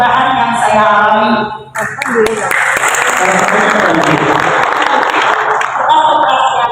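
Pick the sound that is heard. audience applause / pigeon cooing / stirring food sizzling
audience applause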